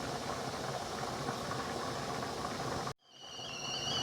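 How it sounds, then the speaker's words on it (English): A pot of water with potatoes and onions boils steadily at a loud, continuous hiss and bubble, briefly cutting out near the end before the rolling boil resumes. "the water is boiling"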